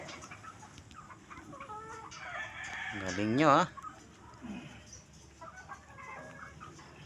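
Backyard chickens cluck and a rooster crows loudly at close range around a chicken house, the crow rising in a wavering call over steady clucking, with people chatting nearby.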